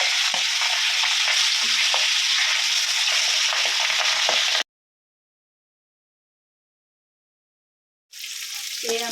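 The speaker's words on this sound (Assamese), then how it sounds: "সানি লৈ এয়া মাছখিনি মই ভাজি ল'ম" Bocha and neria fish fry in a hot wok with loud, continuous sizzling and crackling, cutting out to silence midway before the frying resumes.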